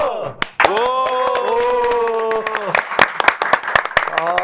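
A Korean crowd at a political gathering chants the name Kang Gi-jeong in loud unison, then breaks into sharp, rhythmic clapping close by.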